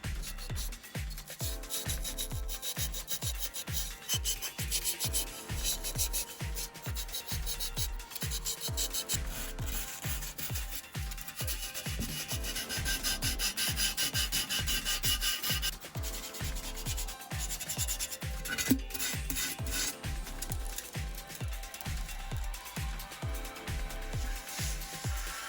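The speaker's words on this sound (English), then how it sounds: "let's do a bit of adjustment with sandpaper to get rid of the trace of" Sandpaper rubs steadily back and forth over the seams of a bisque-fired porcelain teapot in a quick, even rhythm of close, scratchy strokes that continue without pause and without any talk.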